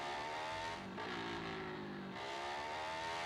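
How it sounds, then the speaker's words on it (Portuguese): A Yamaha Fazer 250 motorcycle engine revs steadily, its pitch rising and falling through a drawn-out throttle swell, with no one speaking. "Essa moto aqui eu já domino."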